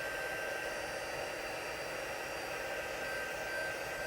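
A heat embossing tool blows a steady, quiet, hair-dryer-like whoosh while melting embossing powder on a stamped card sentiment, holding an even tone throughout with no talking.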